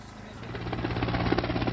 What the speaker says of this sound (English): the sound of helicopters and the sight of flashing lights